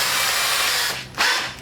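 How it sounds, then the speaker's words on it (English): A power drill whirs steadily at close range in a workshop where a Kreg router switch is being mounted on a Craftsman tool, then briefly stops and starts again. "Now, we got us a drill"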